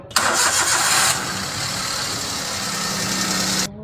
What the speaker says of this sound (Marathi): इकडे गाडी चालू करा बर का मला जरा इंजिनचा आवाज बघायचा आहे